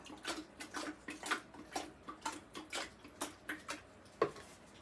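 Water swishing in a houseplant pot in a steady rhythm of short sloshes, about two per second, close and soft.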